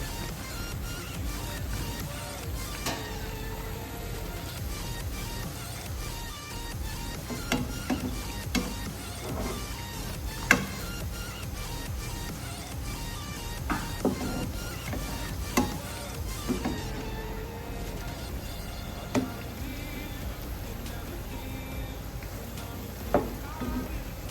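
Boondi batter drops frying in hot oil until crispy for boondi laddu, a steady sizzling bed with scattered sharp crackles and pops, fairly quiet and continuous with no talk.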